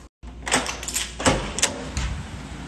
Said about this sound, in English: Someone keeps knocking on my fucking door